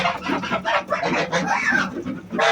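Young bronze turkeys and large geese call on a farm, a dense, continuous run of clucking and gobbling cries close by with no pauses.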